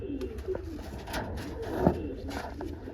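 Pigeons in a home loft coo in low repeated throaty calls, with a few louder notes and a faint tonal hum in the background.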